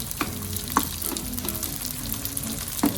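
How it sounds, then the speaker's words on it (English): Water hits a hot frying pan while aglio e olio cooks, giving a steady close sizzle with small crackles and pops scattered over three seconds, no talking. "I'm just gonna put like a bit of water."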